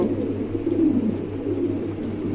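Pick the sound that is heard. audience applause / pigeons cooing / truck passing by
pigeons cooing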